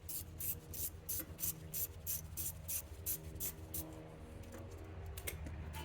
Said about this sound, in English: Let's go ahead and remove this 10 millimeter that holds the sensor in.